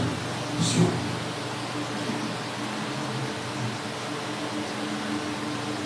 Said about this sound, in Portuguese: Olha o barulho do ventilador